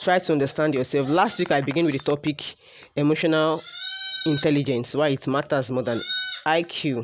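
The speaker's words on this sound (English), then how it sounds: "Please don't mind the goats talking" Goats in Ibadan bleat in the background, with a couple of drawn-out cries standing out in brief gaps while someone speaks steadily over them.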